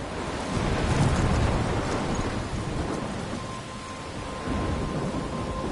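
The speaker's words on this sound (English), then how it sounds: "I'm trapped in a storm?" Thunderstorm in the video game Life Is Strange, with heavy steady rain and a low rolling rumble of thunder filling the space loudly and continuously, no voices.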